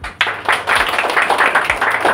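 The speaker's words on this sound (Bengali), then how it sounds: "হাততালি" A crowd applauds at a jewellery shop's Dhanteras lucky draw prize announcement, fast steady clapping from many hands, close and loud with no talk over it.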